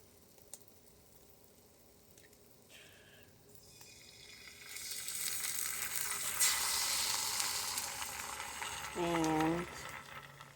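An egg fries in a pan for a breakfast of toast and egg, a steady broadband sizzle swelling loudly from the midpoint and holding, with a brief clunk near the start and a short tonal squeak near the end.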